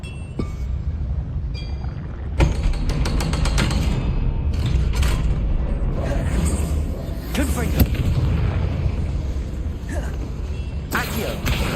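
Fire spell cast in a Hogwarts video game, with crackling magical blasts and mechanical clanks over a rumbling game soundtrack, several sharp bursts close together.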